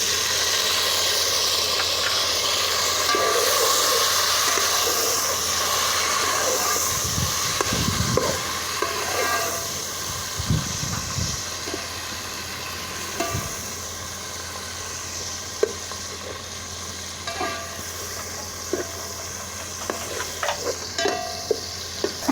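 Chopped tomatoes hitting browned chicken frying for village-style yakhni pulao, a loud steaming hiss and sizzle that fades slowly, with scattered stirring clinks and knocks nearby.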